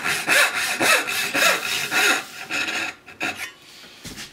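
A hand saw cutting through wood in a woodworking shop, a close, loud run of rhythmic rasping strokes, about six or seven in quick succession, then a few softer, slower strokes as the cut eases off.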